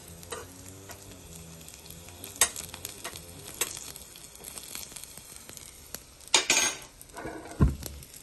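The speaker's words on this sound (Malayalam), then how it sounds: "ഒരു ചെറിയ സ്പൂൺ ഉപയോഗിച്ചിട്ട് ഒന്ന് ഇളക്കി കൊടുത്താൽ മതി" Onions sautéing in a pan sizzle and crackle steadily while a small spoon stirs them, with scattered metallic scrapes and taps against the pan and a few sharper clinks, close and fairly quiet.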